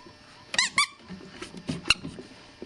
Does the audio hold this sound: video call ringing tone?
no